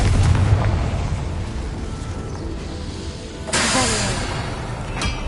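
Confringo fire-blast spell from the Hogwarts Legacy video game, a sudden loud burst midway through that gives way to a sustained hissing roar, over a steady rumbling game backdrop.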